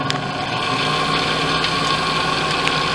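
An electric shear sharpening machine runs with a steady, close mechanical hum and whine, with faint metallic ticks scattered through and no talk.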